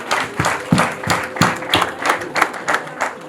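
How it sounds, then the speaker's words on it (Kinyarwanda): Wedding guests clap in a loose, steady rhythm, loud and close, with a faint murmur of voices beneath. "reka mbwire umuryango kumpera amashyi"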